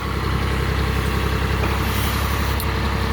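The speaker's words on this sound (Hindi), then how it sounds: "अभी ये मशीन बैको चल रहा है ना, पीछे वाला जो वर्किंग कर रहा है" A backhoe loader mounted on a John Deere 5310 tractor runs with a loud, steady diesel drone close by, and a brief high squeak of hydraulics or metal is heard near the end.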